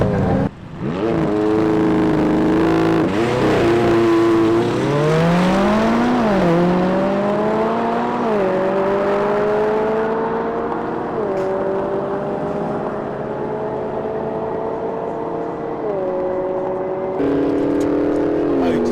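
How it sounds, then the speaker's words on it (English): A stock McLaren 570S accelerates hard at high speed, its engine note climbing steadily through gear changes in a loud, sustained rising whine with brief dips at shifts, close and continuous throughout. "it's a 570S"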